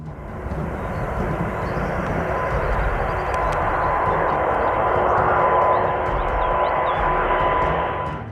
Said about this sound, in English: The sound of the remaining engine working overtime fills the air.